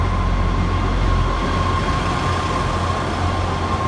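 An East Midlands Railway train for London St Pancras stands at a station platform, its engine idling in a steady, loud drone with a sustained hum and no voices nearby.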